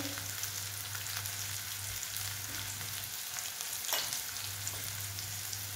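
Chopped onion for okra bhaji fries in a pan with a steady, soft sizzle and crackle, a low hum running beneath and an occasional light scrape of stirring.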